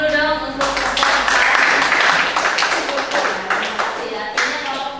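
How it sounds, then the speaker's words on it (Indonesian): Audience clapping at a meeting after a presentation, steady mixed handclaps filling the room for about five seconds, with voices talking underneath. "tepuk tangan dulu dong"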